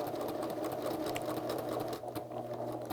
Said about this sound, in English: my machine sews a buttonhole best if I do it from the inside or the wrong side of the garment